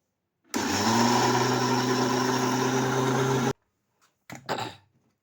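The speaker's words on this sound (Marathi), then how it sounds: "आता मिक्सरमधून बारीक करून घ्यायचं आहे" A mixer grinder whirs loudly for about three seconds grinding soaked rice and lentils, a steady droning grind, then stops, followed by a few brief clatters.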